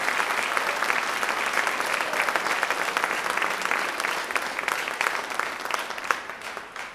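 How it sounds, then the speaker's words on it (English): Steady, dense audience applause at a middle school band concert for the sixth grade band on stage, loud and continuous throughout and fading slightly at the end. "Let's give the 6th grade, since they're on stage, a round of applause."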